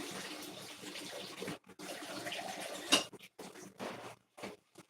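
Water pours into a pot of grits on a home stove, a steady splashing trickle with brief gaps and a sharp clink of metal midway, close and moderately loud with no talking.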